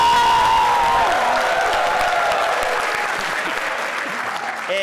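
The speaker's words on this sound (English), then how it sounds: "somebody will start the slow clap" Office staff break into loud, dense applause from many hands, a sustained roar of clapping with voices and cheering mixed in close by.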